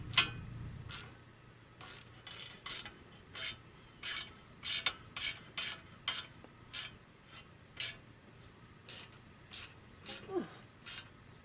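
A few 8mm bolts being screwed in by hand to secure a wheel dust cover during a wheel bearing job, giving a run of repeated short rasping, ratcheting bursts at a fairly steady rhythm, close and moderately loud, with no talking.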